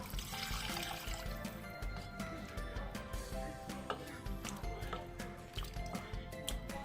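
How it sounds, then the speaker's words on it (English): Two cups of water pour into meat cooking in a pot for okra soup, a quiet splashing and gurgling with small clinks from the pot throughout. "At this time, I will go on to add 2 cups of water."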